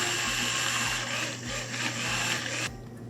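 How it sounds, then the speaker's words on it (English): A blender whirs steadily as it emulsifies citrus sorbet with Cointreau and zest, a dense continuous motor drone that cuts off abruptly near the end. "we blend one more time to create a nice emulsion between the Quantro, zest, and the rest of the sorbet"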